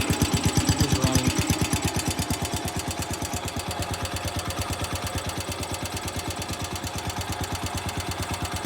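The small engine of a Cub Cadet 100 garden tractor runs warm on a hill, thumping in a fast, steady rhythm close by, a little rougher in the first seconds before settling into an even idle.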